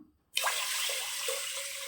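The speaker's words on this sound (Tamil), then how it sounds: "தேவையான தண்ணி சேர்த்துக்கலாம்." Water pours into a cooker of horse gram for chutney, steadily in a continuous broad splashing stream, starting abruptly after a brief pause and running close and loud to the end.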